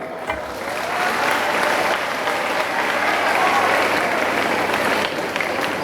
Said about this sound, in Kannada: ಇದು ವಸ್ತುಸ್ಥಿತಿಗೆ ನಿಮ್ಮ ಚಪ್ಪಾಳೆ, ನನ್ನ ಮಾತುಗಲ್ಲ.